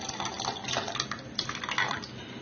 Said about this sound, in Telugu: ఇప్పుడు దీనిలో కాచిన చిక్కని పాలను వేసుకుందాం.